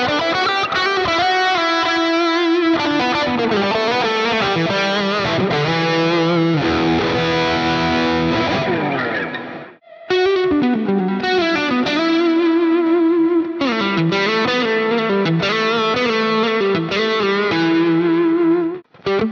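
An electric guitar played through Neural DSP amp plugins via a Focusrite Scarlett 2i2 interface gives loud, heavily distorted riffing with chords and fast picked passages, breaks off briefly near the middle, then resumes strongly. No speech.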